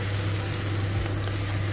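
Chili powder frying in a pan as a little water is added, giving a steady, loud, close sizzle that holds evenly throughout.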